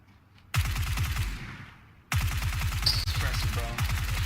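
Suppressed gunfire in the battle royale game PUBG, two rapid automatic bursts of muffled thudding shots, loud and close, with brief voice chatter over the second burst.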